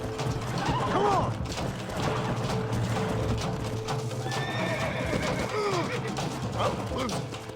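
Horses whinny and snort in the Red Dead Redemption video game amid clip-clopping hooves and mechanical clatter, with a voice speaking over the scene.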